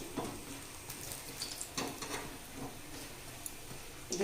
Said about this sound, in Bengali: বাকি বড়াগুলো এইভাবে ভেজে নেব